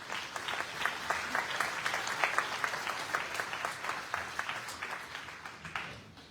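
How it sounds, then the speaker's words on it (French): An audience at a mayor's New Year reception in France applauds a choir, a steady, fairly faint round of clapping that continues for several seconds and tapers at the end. "On peut les applaudir encore une fois."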